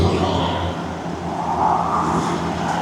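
A 2025 Cummins truck engine cruising during break-in miles on a road through the Louisiana bayou, a steady low rumble and road hum from inside the cab, continuous and fairly loud.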